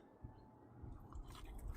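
Close, quiet crunching and chewing sounds as someone bites into crispy pellet-grilled fried chicken skin, with soft crackles over a few seconds.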